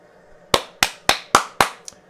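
Clapping from the crowd at a Liverpool versus Southampton football match, heard as five sharp, evenly spaced claps followed by a softer sixth, close and distinct over a quiet background.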